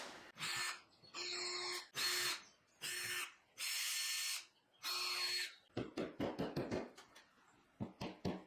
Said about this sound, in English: now I do need to drill all the holes with my smaller drill bit first